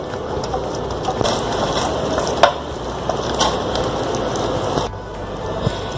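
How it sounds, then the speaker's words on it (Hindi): A spoon stirs spices and chili sauce into a chicken mayonnaise sandwich filling, giving a steady, close, wet churning and scraping that runs without pause and without talk. "और ये सारे मसाले अभी अच्छे से हम मिक्स कर लेंगे"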